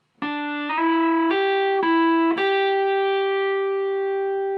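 A clean electric guitar line from a solo, sustained single notes each picked and ringing out, stepping upward in pitch over a few seconds, with no other instruments.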